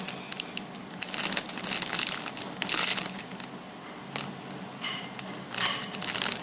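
A squishy foam toy is squeezed and kneaded close up, giving repeated soft crinkling, crunching bursts in an irregular rhythm with brief pauses between squeezes.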